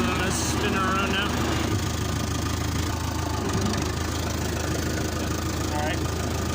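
A Fordson Diesel Major tractor engine runs steadily as the tractor turns around, giving a continuous loud low rumble with a rough, knocking texture throughout.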